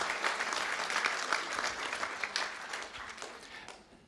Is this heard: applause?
yes